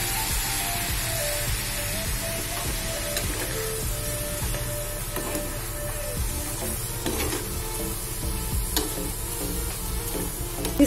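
Vermicelli for an Eid dessert is roasted in spiced masala in a pan, making a steady close sizzle with recurring scraping and stirring strokes and a few sharper clicks, without any talking.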